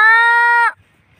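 A man gives a single sustained, nasal, bleat-like call imitating a castrated male goat; it lasts under a second, is loud and close, and breaks off into near silence.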